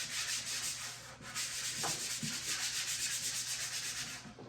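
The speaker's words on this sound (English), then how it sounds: "So I'm going to take this sanding pad," A sanding pad is rubbed by hand over painted antique furniture, a continuous close scratchy rasp with steady back-and-forth strokes and a few brief pauses.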